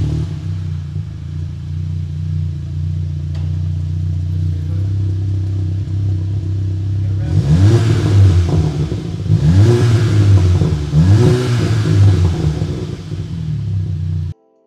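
A Volkswagen MK7 GTI engine idles with a deep, steady rumble, then is revved three times in a row with the exhaust removed, straight-piped through the catalytic converter, each rev a sharp, raspy roar before dropping back.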